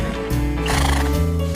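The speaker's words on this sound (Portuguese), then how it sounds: "cavalo," A horse neighs loudly and close, a single shrill whinny rising and shaking over about a second, with no voices around it.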